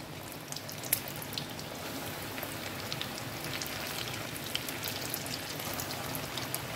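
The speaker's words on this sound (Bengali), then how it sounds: "এবার আমরা অল্প অল্প করে চিকেন দিয়ে ভাজবে, বেশি কিন্তু ভিড় করবে না কড়াইয়ের মধ্যে" Pieces of flour-coated, KFC-style chicken popcorn deep fry in hot oil in a kadai, giving a dense, even sizzle with scattered crackles and pops throughout, fairly close and uninterrupted by voices.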